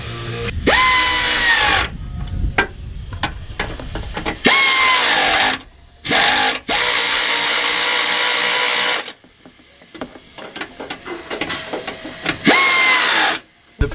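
A power tool whirs in several loud close bursts as a light bracket is tightened onto a truck, each spin revving up and cutting off between pauses filled with faint handling clatter.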